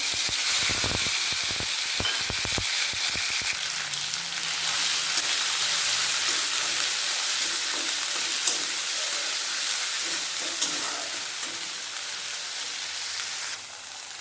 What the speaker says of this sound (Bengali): বেরিস্তার তেলের মধ্যে দিয়ে দেবো জিরে এই তেলের মধ্যে দিয়ে দেবো আদা রসুন আর লঙ্কা বাটা